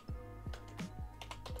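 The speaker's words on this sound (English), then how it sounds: "So what we're going to do is we're going to type image Jake underscore happy" Soft computer keyboard typing, a handful of light keystrokes heard faintly over a low background hum.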